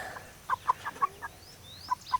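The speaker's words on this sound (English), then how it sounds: "Now this is my injured hen." An injured hen clucks in short separate bursts, about seven soft clucks spaced unevenly, heard close and clear over quiet background.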